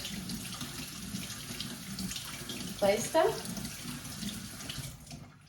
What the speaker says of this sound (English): I start by using a lot of water to rinse them